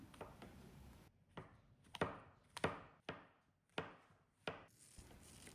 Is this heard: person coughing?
no